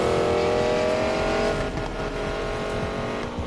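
A racing car engine in Need for Speed Payback roars and accelerates hard at close range, a loud sustained tone with rising harmonics and faint tire noise.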